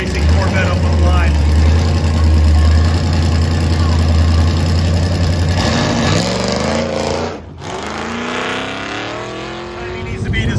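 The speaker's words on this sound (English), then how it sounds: "Andrew Jenner with the Summit Racing Corvette up on the line." Summit Racing Corvette sitting on the start line at a Goodguys autocross, its engine idling with a steady low rumble that swells into a rising rev near the end, under a commentator's voice.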